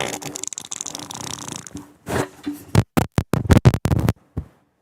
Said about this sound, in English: Now that was a freshly brewed fart.